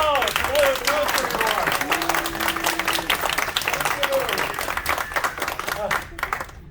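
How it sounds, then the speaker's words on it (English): A theatre audience at a magic show applauds a magician in a sustained wash of dense clapping, with voices and cheers mixed in and a host speaking over it before it fades. "Another round of applause for William Wilson,"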